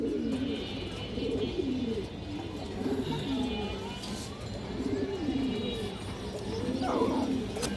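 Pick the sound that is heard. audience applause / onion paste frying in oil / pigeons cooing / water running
pigeons cooing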